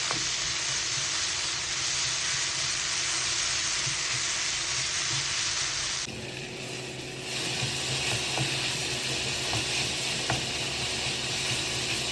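Ginger garlic paste and tomato sautéing in a pan for a spicy beef roast, a loud unbroken sizzle with stirring, briefly dipping partway through before resuming strongly, close up with no talk.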